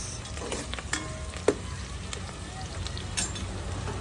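Ginger, garlic and onion sauté in a pan for a chicken soup with glass noodles and sponge gourd, a low, faint sizzle with a few scattered clinks and taps.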